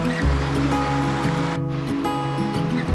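A river rushes past stepping stones along a hiking trail. The water makes a continuous, fairly loud, close wash with no pauses and no talking.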